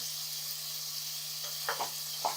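Ground chicken keema frying in a pan with coriander and ginger powder, a steady soft sizzle with a few faint stirring scrapes near the end, no talking.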